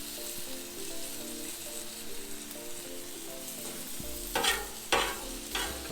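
Chicken for a Philly cheesesteak sizzles steadily on a hot pan, close by, with a few sharper clatters of stirring or tossing near the end.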